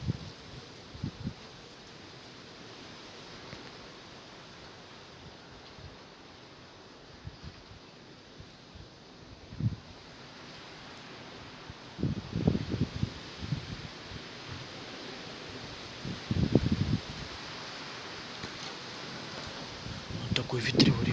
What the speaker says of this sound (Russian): Только после ливня поднялся ветер.